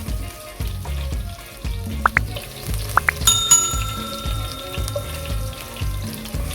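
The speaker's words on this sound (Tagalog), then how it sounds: "First, heat the pot. And then oil. Then ginger, and then garlic," Ginger and garlic dropped into hot oil in a pot set off a steady close-up sizzle and frying crackle, with a few bright metallic clinks and a ringing tone partway through.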